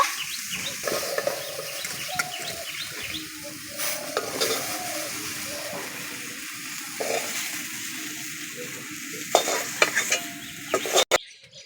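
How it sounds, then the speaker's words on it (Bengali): Soybean chunks fry with salt and turmeric in a wok, giving a steady sizzle with intermittent spatula scrapes and stirring knocks, ending in a sharp clatter. "সামান্য হলুদ গুঁড়ো দিয়ে দিচ্ছি ভালো করে ভেজে নেব সয়াবিনগুলোকে"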